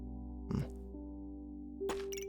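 A video game pig gives two short oinks, one early and one near the end, each a quick nasal grunt over a steady droning musical background.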